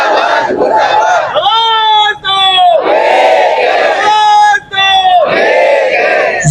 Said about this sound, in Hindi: जहां आप देख सकते हैं नगर परिषद के तमाम सफाई कर्मचारी जो यहां नारेबाजी कर रहे हैं